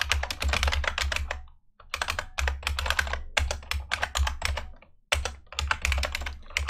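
Someone types code on a computer keyboard while writing an OpenGL shader program class. The keys clatter close and steady in quick bursts, with brief pauses between runs and no talking.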